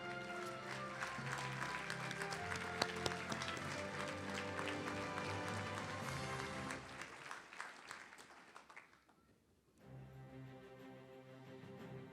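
An audience at a firefighter awards ceremony applauds, a dense sustained wash of many hands that fades briefly and then resumes at a lower level.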